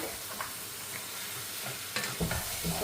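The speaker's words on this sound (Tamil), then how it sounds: "இப்போ நண்டை வந்து நாங்கள் நல்லா மிக்ஸ் பண்ணி கொடுப்பேன்." Crabs stirred through frying masala in a pan, a continuous close sizzle with spatula scrapes and thicker knocks toward the end, no voices.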